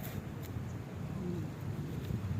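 Steady wind buffets the microphone by the sea in Mati City, a low, continuous rumble of gusts with faint surf-like hiss underneath and no talk.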